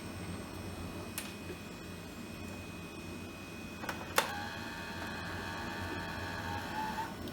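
A disc ejects from an old iMac G3: a faint click, then a sharp mechanical clunk and a whirring slot-drive motor. The sound is close, over a steady computer fan hum.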